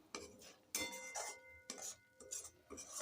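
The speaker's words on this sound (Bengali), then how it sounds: "এবার নুন আর চিনিকে খুব ভালো করে নেড়ে চেড়ে শিমের ভর্তার সাথে খুব ভালো করে মিশিয়ে নিতে হবে" Bean mash being stirred with a utensil after salt and sugar are added, giving intermittent scraping and clinking of a spoon against a metal pot in several short bursts, fairly quiet and close.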